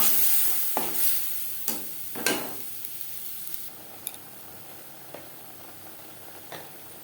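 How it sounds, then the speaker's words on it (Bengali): A spice paste of ground ginger, green chili and onion sizzles softly in a pan with frying garlic, broken by a few sharp spatula scrapes and clinks, with no talking. "এক দু মিনিট পেঁয়াজের সাথে রসুন ভেজে নেওয়ার পর দিয়ে দেবো মশলার পেস্ট।"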